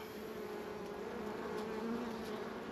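Honey bees buzzing around an open beehive during a varroa treatment: a faint, continuous swarm hum with shifting drone tones as individual bees pass nearby, steady throughout with no talking.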